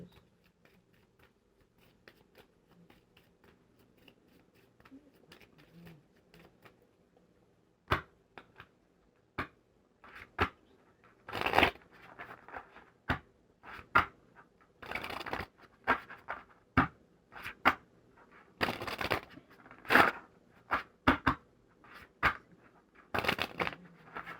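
Tarot cards are shuffled in irregular bursts of riffling and slapping, quiet at first, then louder and more frequent, with no talking.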